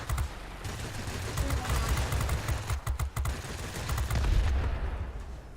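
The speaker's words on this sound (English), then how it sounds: "Man, these guns overheat so quick." Aircraft machine guns fire in sustained, rapid bursts during a World of Warplanes dogfight, loud and dense with engine roar beneath, the streams briefly breaking before resuming.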